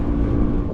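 A 4WD driving fast through deep soft desert sand, a loud, close, continuous engine drone with a rough, rumbling low tone that holds steady for the short moment.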